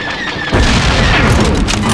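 Blaster fire and an explosion boom out during Star Wars Battlefront III combat on Tatooine, with a sudden loud blast that turns into a dense, rumbling roar.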